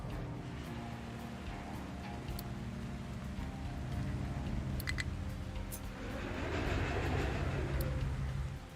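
Trains rolling along rail tracks in the factory-building game Captain of Industry, a steady continuous rumble of rail cars with faint clicks, swelling louder toward the end, with no talk.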